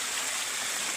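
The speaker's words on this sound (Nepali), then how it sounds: "डेन्जर पानी आइरहेको छ यतिर" Water gushes steadily from a spring spout near a house, a loud, continuous broadband rush with no pauses and no voices, close to the source.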